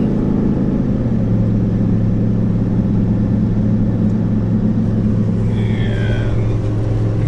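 An RV engine holding a steady 3,200 RPM at 55 mph, a constant low droning hum with road rumble inside the cabin, even and continuous with no speech.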